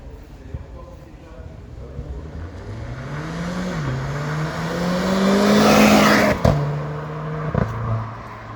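A Renault Clio 4 RS 18 with 220 hp, heard from outside, accelerating past with a rising engine note, a brief dip at a gear change, then a louder pass peaking before a sharp shift crack and fading pops.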